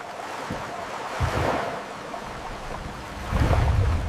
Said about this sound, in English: water slapping against enclosed stone. The creak of wood against iron.